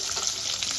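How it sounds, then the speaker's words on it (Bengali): A fish head fries in oil, a brief, dense sizzling hiss held steady at moderate loudness. "মাথাটা আমার লাল করে ভাজা হয়ে গেছে।"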